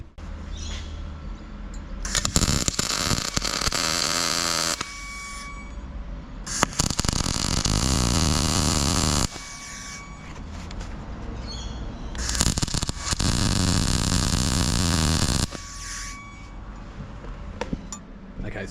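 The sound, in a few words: welding round tube onto square steel tube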